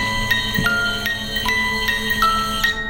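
A ghost-hunting motion-sensor music box calibrating gives off a sequence of bright, thin electronic tones that step between pitches every half second or so, over a constant faint background hum.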